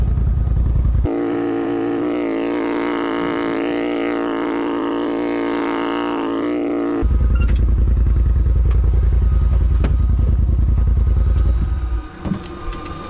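A UTV engine runs with its drive clutches spinning, a loud, steady mechanical roar with a whining layer that shifts to a deeper rumble partway through, with scattered clatters and knocks near the end.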